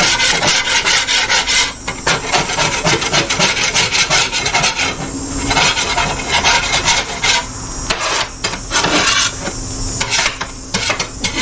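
A metal scraper rasps steadily across a hot cooking griddle outdoors while beef, chicken and vegetable fajitas cook, the loud continuous scraping broken by brief pauses with no talking.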